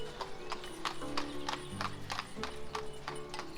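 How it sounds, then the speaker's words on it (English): Horse-drawn cart in the 18th-century Ukrainian village game Ostriv, hooves clip-clopping in a steady rhythmic trot with a neigh and low rumbling wheels and ambient tones beneath. "Arriving here on a horse cart"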